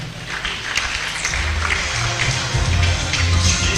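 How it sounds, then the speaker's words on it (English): A conference audience at a JCI Nigeria awards event claps for a speaker, a dense, continuous wash of applause with crowd murmur, held at an even level throughout. "Please let's put our hands together to the esteemed speaker ably represented by Dr. Bright."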